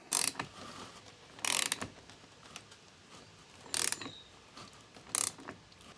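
A 3D printed plastic range hood vent cover is threaded into place, giving short bursts of ratcheting, scraping plastic clicks separated by quiet pauses. Close and faint, with no talk.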